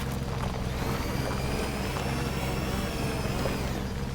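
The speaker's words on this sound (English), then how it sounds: "you can hear the engine struggling when we get on the steeper" A vehicle engine in Death Stranding 2 labours on a steep slope, a steady dense drone with a thin whine riding over a low rumble, continuous and fairly loud with no talk over it.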